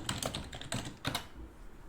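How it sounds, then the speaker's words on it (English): Typing on a computer keyboard, several quick bursts of close, clicky keystrokes separated by short pauses, with no voices. "I am typing because I'm pulling in a link."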